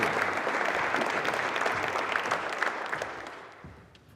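An audience at a symposium applauds to welcome speaker Don Hardman, a full, steady burst of clapping that gradually thins and fades toward the end.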